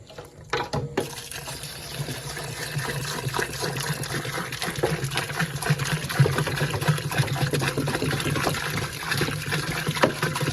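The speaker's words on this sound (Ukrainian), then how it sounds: "Далі на 6 кг заливаємо приблизно 4 літри води." Water pours steadily for about ten seconds into a 6-litre jar of raspberries, roughly 4 litres in all, for homemade raspberry wine; a continuous close splashing fill with no talk over it.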